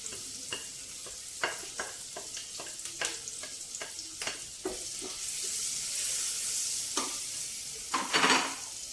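Onions and green chilies frying in a pan, a soft steady sizzle broken by a run of sharp scraping stirs and taps, close and clear with no talk.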